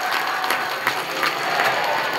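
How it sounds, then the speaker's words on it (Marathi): Audience clapping at the close of a pilgrimage walk, a steady dense patter of many hands with no pause, fairly loud and close, with no voices over it. "टाळ्या वाजवून आनंद व्यक्त करूया"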